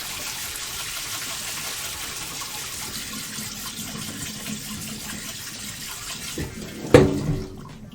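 A whisk is rinsed clean under running water in a kitchen sink, a steady hissing stream throughout with a brief louder clank and splash near the end.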